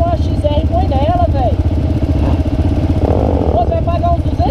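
A Beta off-road motorcycle engine runs loud and close with a steady pulsing chug, its pitch wavering slightly as the throttle shifts, while someone talks over it.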